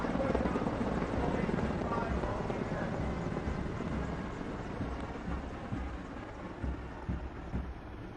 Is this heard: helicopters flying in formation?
yes